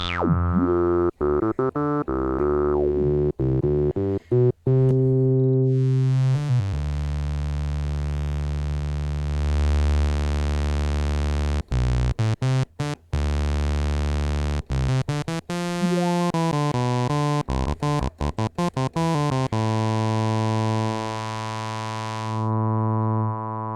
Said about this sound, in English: You can hear the first filter staying the same as I'm manipulating the second filter.